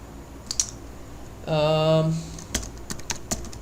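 Someone types on a computer keyboard with scattered, close key clicks and taps. A short electronic buzz or tone sounds briefly in the middle.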